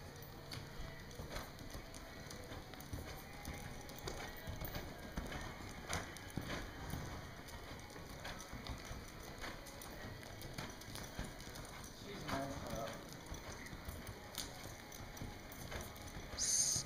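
A four-year-old APHA champion mare lopes in an arena, her hooves thudding a soft, steady rhythm on the ground throughout, faint and a little distant against a low background hiss.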